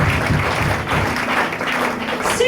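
Audience applause in a church, a dense burst of clapping close and loud throughout, with voices mixed in.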